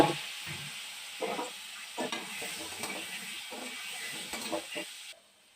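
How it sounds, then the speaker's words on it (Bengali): Potatoes frying in oil in a wok, a steady hiss with repeated scraping stirs at an irregular pace, close and moderately loud, ending abruptly as the sizzle drops away. "ওখানে আলুটাও একটু ভেজে নেব।"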